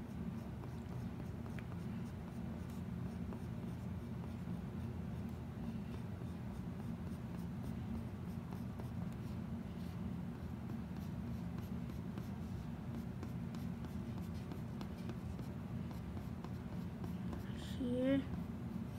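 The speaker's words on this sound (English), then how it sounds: "Now draw some hairs." A pencil draws on paper, a steady close scratching that sketches the hairs of a cricket, continuous throughout under a low background hum.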